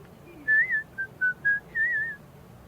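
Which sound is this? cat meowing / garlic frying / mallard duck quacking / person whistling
person whistling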